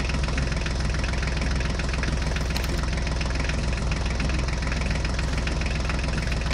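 A toy tractor's engine runs with a steady, dense mechanical drone and knocking rumble, loud and unbroken from start to finish with no talk.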